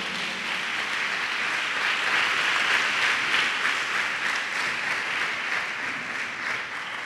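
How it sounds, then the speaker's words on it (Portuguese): A church congregation applauds during a sermon, a sustained dense round of clapping from many hands that holds at an even level throughout, with no talking over it. "dá um aplauso aí para Cristo aí"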